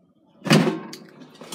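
A Power XL air fryer drawer pulled out of its copper-finished unit, giving one sharp sliding clunk followed by a short fading rattle, close and loud with no talk.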